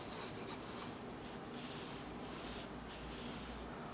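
A watercolor pencil scratches and rubs on paper in continuous soft strokes, faint and close, with no talking.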